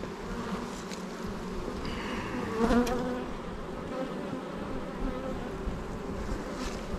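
Honey bees buzz around an open hive in the afternoon, a continuous close droning hum with individual bees swelling briefly louder as they pass near, and no voices.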